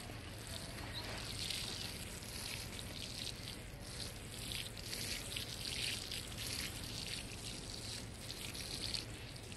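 Water pours steadily from a hose or watering can onto bean and squash plants in a garden bed, a continuous close splashing and trickling hiss that runs without pause throughout.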